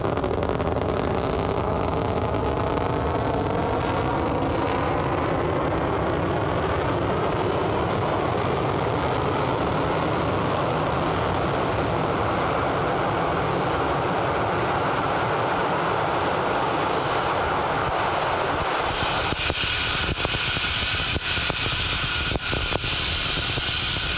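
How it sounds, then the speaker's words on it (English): A Falcon 9 first stage booster on its landing burn roars steadily, a loud broadband rumble that holds for the whole stretch, with crackling and a slight shift in tone near the end and no voices. "Now, the landing burn has begun for the Falcon 9 first stage."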